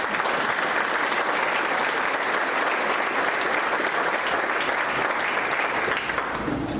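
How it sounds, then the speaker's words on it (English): Big, sustained round of applause from a conference audience at Envision Iowa 2024, thick continuous clapping throughout, loud and close, with no talk over it. "Let's give her a big round of applause."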